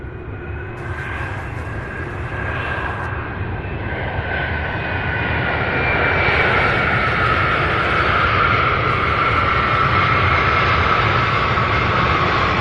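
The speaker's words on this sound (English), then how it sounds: "this one out of Harrisburg, Pennsylvania, UPS Flight 1171, a 27-year-old aircraft." A 27-year-old UPS cargo jet operating at night at Louisville's SDF airport, a loud steady engine roar with a whining tone that grows a little louder partway through, with no talk.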